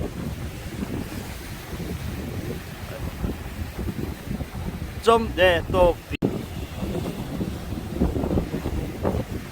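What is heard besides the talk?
strong typhoon wind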